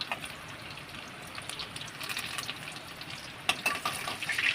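Cumin seeds and finely chopped garlic fry in hot oil with a continuous crackling sizzle, rising in spurts near the end as ingredients are stirred.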